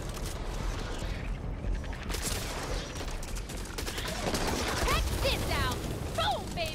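Steady gunfire in the zombie shooter Back 4 Blood, a dense run of shots carrying on throughout under voices talking over game noise.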